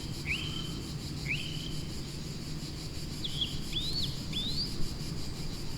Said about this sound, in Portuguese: Neste sítio especial é permanente este som dos passarinhos